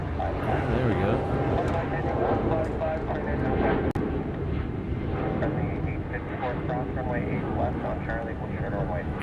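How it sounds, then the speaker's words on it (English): A Korean Air Dreamliner airliner performs a go-around at Honolulu airport, a broad, steady jet roar heard from a distance outdoors, with people talking over it throughout. "Korean Air Dreamliner 10 did a go around on 8 left."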